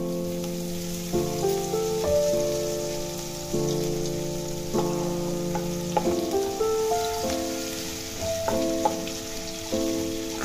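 Grated ginger frying in hot oil for a coriander-leaf kachori and potato-pea curry, a steady close sizzle with soft stirring under a background of tonal music, no talking.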